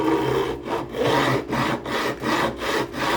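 A metal file or fret-bevel block rubs back and forth along the edges of new guitar frets, giving about six steady, close strokes with brief gaps between them and no talk.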